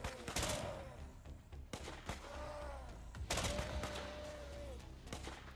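Assault rifle fire in the zombie survival game Infection Free Zone: repeated bursts of shots at mid distance over a constant game backdrop, with a few tonal cues sliding between the volleys.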